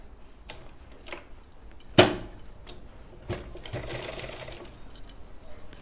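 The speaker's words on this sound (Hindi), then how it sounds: "यहाँ पे सिलाई स्टार्ट कर लेते हैं" A sewing machine stitches the hem of a salwar, running in short whirring bursts with a sharp clack near the middle and a steadier, longer run toward the end, close and moderately loud.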